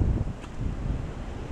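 Gusty wind outdoors on a farm, buffeting the microphone as a low, uneven rumble that is strongest at the start and then keeps blowing steadily, with no voice over it.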